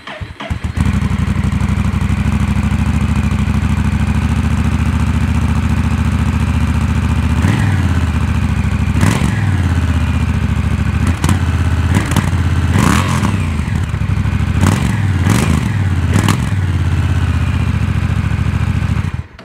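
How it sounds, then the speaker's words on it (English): A 2024 Honda Rebel 1100 DCT motorcycle idles loudly and steadily, with a series of sharp throttle blips revving up and falling back in the second half, close and alone with no voices. "this is how the muffler on the 2024 Honda Rebel 1100 DCT sounds"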